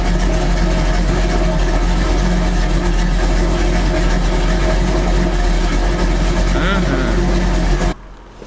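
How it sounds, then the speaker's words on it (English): A loud, rumbling cammed small-block Chevy V8 idles with a choppy, lopey rhythm, running continuously before cutting off abruptly near the end. "The sound of a cam small block Chevy"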